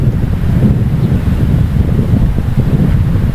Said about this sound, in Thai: ลมมาเหมือนกับคลื่นน้ำทะเลเลย